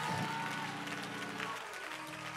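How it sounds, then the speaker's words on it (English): A Baptist church congregation claps during a worship conference, the clapping mixed with sustained organ or keyboard tones and some vocal sound, moderately quiet and steady across the moment. "Clap them hands and give God a praise"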